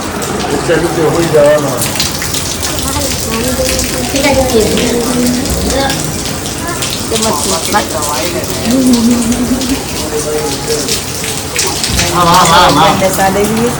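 Steady rain falls on a surface with a constant hiss, while people talk intermittently beneath it.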